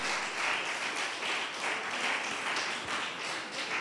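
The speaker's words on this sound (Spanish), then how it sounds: "Dale una ofrenda de palmas al que vive." Steady clapping from a church congregation fills the space, a continuous even patter of many hands at moderate volume.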